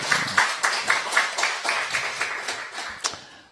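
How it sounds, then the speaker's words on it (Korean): A small church congregation claps in a steady rhythm for a few seconds during a Sunday service, the claps slowing and fading toward the end. "박수 좀 다시 한번 해주시죠"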